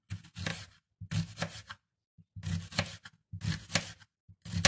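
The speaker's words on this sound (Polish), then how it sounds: "Teraz my kroimy cebulkę" A knife slicing onion into thin strips on a cutting board, quick rhythmic clusters of sharp chops in several bursts separated by brief pauses, close and clear with no voices.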